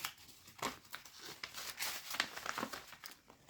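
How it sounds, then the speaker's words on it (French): Paper banknotes, ten-euro bills, are handled and slipped into a paper budgeting envelope, giving repeated close crinkles and rustles in short bursts with no talking. "les 3 autres billets de 10 qui vont partir dans l'enveloppe d'hiver au mois"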